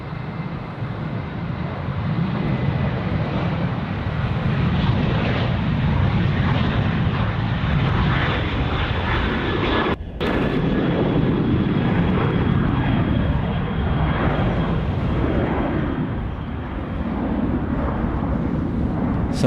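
Qantas Boeing 737-800 jet departing Sydney Airport, its engines roaring loud and steady throughout, a broad continuous rumble with a brief dip midway, no talking.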